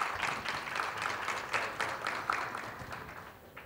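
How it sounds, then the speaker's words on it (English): An audience at a startup pitch day before venture capital funders applauds in a steady, fairly soft patter of many hands clapping, with no break for several seconds. "Give him another round of applause."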